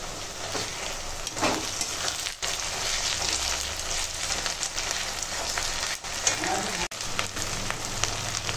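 Onions frying in hot oil with ginger-garlic-cumin paste added, a steady close sizzle with stirring scrapes, brief dips where the pan goes quieter, continuing without pause.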